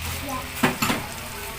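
Food frying in a hot wok sizzles steadily, with a couple of sharp bursts as pieces are dropped into the oil one at a time, close and fairly loud.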